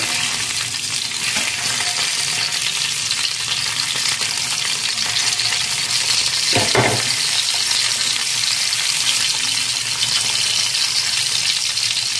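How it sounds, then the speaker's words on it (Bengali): Hilsa fish pieces fry in oil over a low gas flame, a loud, even, hissing sizzle that runs throughout, with one brief scrape of a turner partway through. "এরকম আমি আঁচটাকে মানে গ্যাসের ফ্লেমটাকে একদম কমিয়ে মাছটা ভাজবো"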